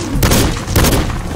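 Two loud, close rifle shots from a hunting gun in Cabela's Dangerous Hunts 2013, each a sharp blast with a brief booming tail, about half a second apart.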